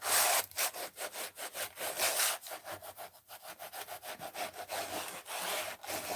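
Repeated swiping strokes rub across an art journal page to smooth it, a quick rhythmic series of close, soft scraping passes with brief gaps between them.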